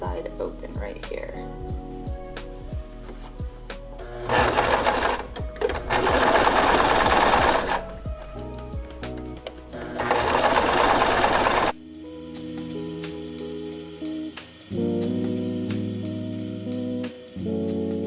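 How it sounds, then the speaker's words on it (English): Sewing machine stitching the fabric of a homemade anti-fog face mask, running in loud sustained bursts with short pauses, close up, followed by quieter softer mechanical whirring. "feel free to stitch all along, sewing this all together"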